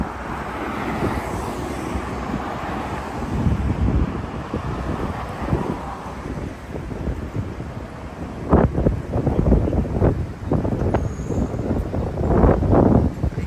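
Gusty wind buffets the microphone on a night walk in Toronto, a loud low rumble that swells and drops in irregular bursts, strongest in the later gusts.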